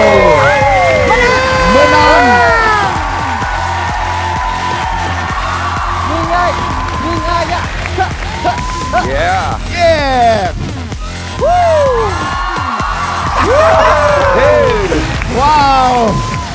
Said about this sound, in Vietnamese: một tràng pháo tay cho hai đội ngày hôm nay